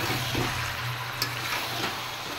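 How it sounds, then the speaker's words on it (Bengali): Meat frying in a pan with ginger-garlic paste and ground cumin, coriander and chilli gives off a loud, continuous close sizzle with faint stirring, and no one speaks. "এবার মাংসটা কষিয়ে নেব।"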